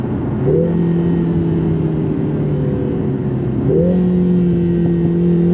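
A Lotus Emira engine blips up on a paddle downshift, a steady mid-pitched engine drone that briefly rises near the start and again toward the end, loud and close with no talk.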